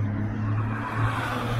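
An Aston Martin engine rumbling at the Nürburgring, a deep steady burble held close and loud for a short moment.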